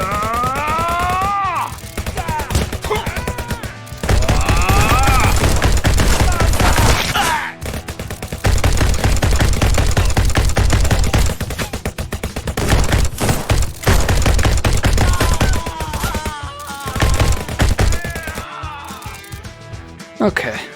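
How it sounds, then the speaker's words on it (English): Uzi submachine guns fire in Red Dead Redemption 2 played in VR, loud rapid automatic bursts in several long volleys separated by short pauses, with a voice talking in between. "You got a new weapon, Uzi guns."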